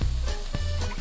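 Meat sizzling on a kitchen stove in the cooking video game Overcooked, a loud, steady frying hiss with short low pulses of game sound underneath.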